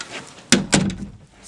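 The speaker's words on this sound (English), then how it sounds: "So let me close the door." An indoor room door is pushed shut, giving two quick close thuds, a latch knock followed by a firmer bump, loud and near in an otherwise quiet space.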